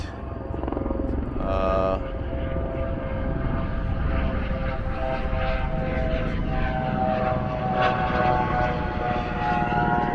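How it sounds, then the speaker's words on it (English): A loud, continuous rotor and engine drone from Maverick tour helicopters passing overhead in Las Vegas, steady and close throughout with a slight shifting whine. "helicopters would be a problem if you're trying to have a wedding"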